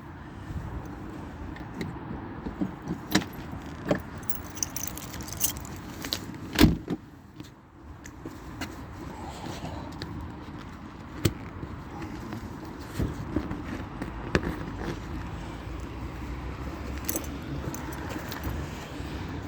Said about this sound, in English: I would imagine it's the Morris style keys like that.